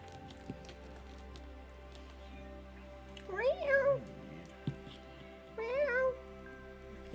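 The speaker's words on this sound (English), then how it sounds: "You can hear my cat in the background." Abigail, a pet cat, meows twice from the background of a quiet room, a few seconds apart, each cry rising and wavering, with faint household noise between.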